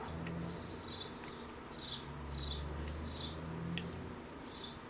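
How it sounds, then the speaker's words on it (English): Bright, high-pitched bird chirps repeat in short bursts over a low steady hum, fairly close and loud, with no one talking. "these birds are so freaking loud"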